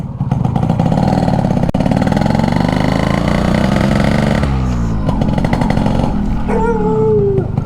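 A restored 30-year-old Yamaha RX100 motorcycle runs loud and close, its two-stroke engine buzzing with a steady raspy drone that shifts pitch midway as the revs change.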